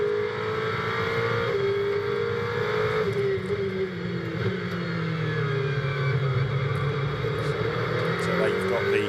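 Onboard engine note from a BMW GT race car during a GT World Challenge main race at Barcelona, a steady loud drone with shifting pitch as it accelerates, with commentary speech over it.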